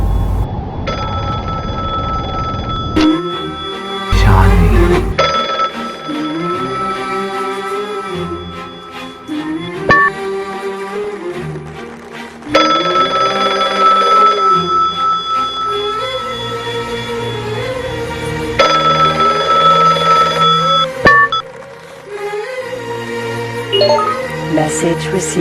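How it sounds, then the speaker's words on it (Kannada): A phone ringtone plays as a loud, repeating electronic melody with bright tonal notes, cycling through several phrases over a steady background, with brief voices and noises between the rings. "ನಚ್ಚಿ ಫೋನು."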